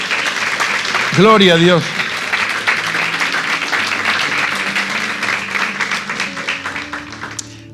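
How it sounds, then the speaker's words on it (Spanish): A church congregation applauds during a service, a sustained wash of clapping that carries on under a man's loud spoken praise and a quieter voice. "Denle un hermoso aplauso a nuestro Señor"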